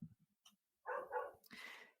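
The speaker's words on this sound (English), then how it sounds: "you've got a helpful dog in the background who's singing us some carols" A dog barks and yips in short bursts in the background of a home call, several quick barks followed by a longer whining howl, fairly faint.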